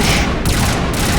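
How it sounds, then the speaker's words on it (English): Dense, loud gunfire in the video game Mass Effect: a continuous roar of rapid shots filling the whole moment, with no pauses. "But we're being shot at."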